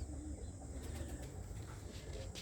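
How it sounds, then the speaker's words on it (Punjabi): Pigeons in a loft coo softly and a few wings flutter, a low steady murmur of birds close by with brief flapping bursts, no talk. "ਬਹੁਤ ਚੰਗੇ ਚੰਗੇ ਕਬੂਤਰ ਨੇ ਬਾਈ ਹੁਣਾਂ ਦੇ ਕੋਲ"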